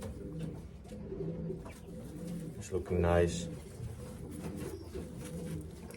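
Racing pigeons coo at close range, soft repeated calls over a low loft hum, with one louder coo standing out midway while someone speaks briefly.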